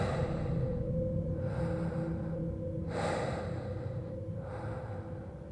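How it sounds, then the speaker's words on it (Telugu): Heavy, slow breaths in a horror story setting, each long rasping inhale and exhale rising and falling in a steady rhythm, close and alone against a faint background. "ఇంట్లో ఎవరో గట్టిగా ఊపిరి పీల్చుకుంటున్నట్టు సౌండ్ వినిపించింది"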